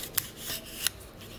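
A knife or cutter slices through a plaster model mold, giving two sharp close snips or cuts separated by a soft scraping rub, with no talk.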